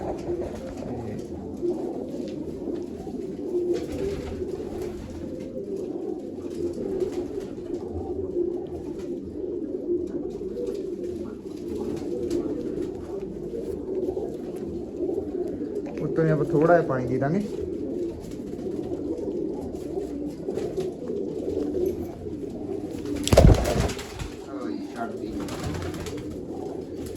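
Pigeons coo softly and steadily in a home loft, a low continuous murmur of several birds close by, with people talking over it throughout and a brief louder knock near the end.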